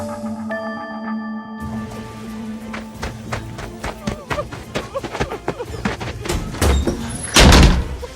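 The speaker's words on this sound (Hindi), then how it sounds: "दरवाजे को इतनी जोर की आवाज से खोल के अंदर आया" A door is flung open with a bang in a Hindi radio drama, a series of knocks and clatter building to a loud thud near the end.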